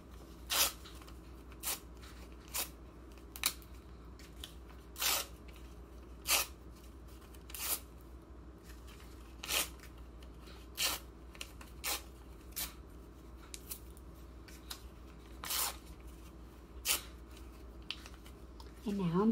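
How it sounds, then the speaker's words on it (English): Sheets of paper torn by hand into small pieces and piled up for a kindergarten crawfish art project, heard as a steady series of short, close ripping bursts roughly every second. "So here I'm going to continue tearing my paper and making them into a pile."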